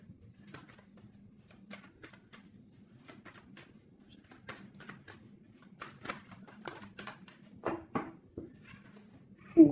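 Tarot cards are cut and shuffled by hand, producing a steady run of soft, close riffling clicks and taps over a faint background hum, growing denser and louder toward the end.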